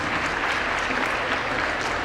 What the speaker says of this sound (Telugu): ఒక్కసారి అందరూ సార్ గారికి ఒక చప్పట్లతో స్వాగతం చెప్పాల్సిందిగా కోరుతున్నాను